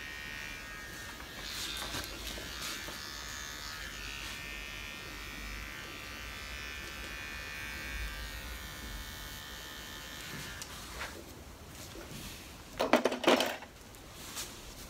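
An electric hair clipper run flat over the neck and into a T-shirt and shirt collar after a men's haircut, a faint steady buzz for about ten seconds, then a brief louder rattling clatter near the end.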